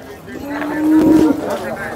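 A cow at a cattle market in Modnimb, Maharashtra moos once, a loud drawn-out low call with a rising, roaring middle, close by against faint background noise.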